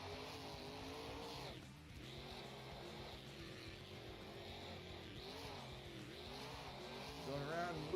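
Monster truck engine and tires in the Rigs of Rods video game at a Monster Jam beach event, a continuous roaring engine with shifting revs and gear changes, rising to a tire squeal at the end.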